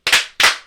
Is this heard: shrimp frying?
no